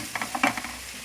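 Sliced onions sauté in coconut oil in a pan as salt and tomato are added for a beef curry, with a soft steady sizzle broken by a few quick stirring scrapes, close and fairly quiet.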